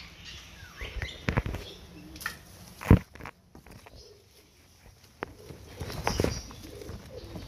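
A pigeon flaps its wings in a few quick bursts close by, around the moment an egg is lifted from a garden flower bed as rain begins, with soft rustling and handling noise between the flurries.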